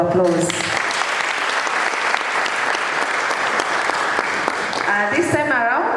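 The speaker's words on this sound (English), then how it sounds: "Let's give him another round of applause." A full hall at a public lecture on human trafficking bursts into loud, sustained applause, with a voice speaking briefly over it near the end.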